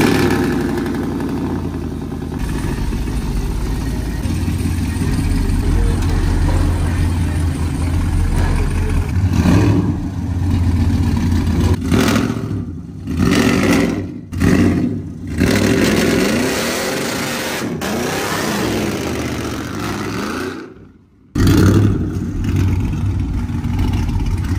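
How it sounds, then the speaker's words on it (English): A loud truck engine idles with a heavy rumble and revs up in surges, close by and steady for long stretches, with brief dips when the throttle drops. "this truck is getting super loud that it's not even comfortable to drive in the damn street"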